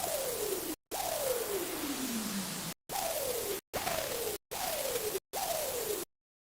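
Bursts of synthesized white noise hiss in repeated chopped segments, each with a falling tonal sweep, cutting abruptly to silence at the end.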